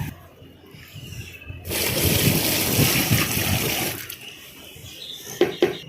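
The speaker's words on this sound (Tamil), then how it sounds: "இப்போ பாருங்கள் தண்ணி ஊற்றியாச்சு." Water pours steadily onto a dry cocopeat block being soaked for garden use, a broad splashing rush that starts abruptly, runs for a couple of seconds, then tapers into faint trickles and drips.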